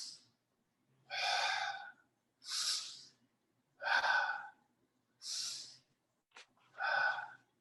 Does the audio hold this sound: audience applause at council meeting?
no